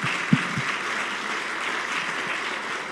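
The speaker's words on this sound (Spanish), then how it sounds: "Un aplauso." Steady applause from an audience at a business summit on regenerative enterprise, a dense even wash of clapping lasting the whole stretch with one sharper clap near the start.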